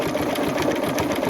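A sewing machine stitches dark green watermelon-rind fabric, running as a fast, even mechanical whir up close for a brief moment without pause.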